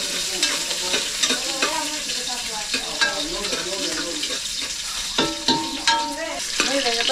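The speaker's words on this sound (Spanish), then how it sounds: "estoy asando los ajos y la cebolla, esto le da muchísimo sabor a la carne" Garlic and onion roast in a hot pan, giving a loud, continuous sizzle broken by stirring scrapes and clatter, with faint melodic sounds in the background.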